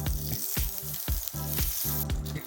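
Butter melting in a spoonful of extra virgin olive oil in a pan for a cream sauce, a steady loud sizzle and crackle broken by rhythmic scraping strokes, close and alone.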